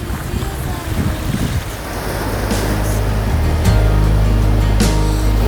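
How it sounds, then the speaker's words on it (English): Sailboat cruising at about five knots under jib alone in a 15-knot breeze, with rushing water, wind buffeting the microphone and a low rumble growing stronger, loud and close. "Very leisurely sail today, cruising along about 5 knots, got 15 knots of breeze, just the jib out."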